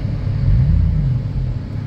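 A 2003 Chevy Tahoe V8 pulling under throttle, a loud, steady low engine rumble with a slight swell midway, heard from inside the cabin.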